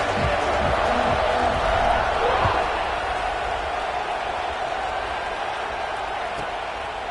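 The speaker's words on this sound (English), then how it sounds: "this crowd is buzzing after that last score" Crowd at a college football stadium buzzing after a score: a dense, continuous roar of many voices filling the space, steady and loud throughout with a little stronger swell early on.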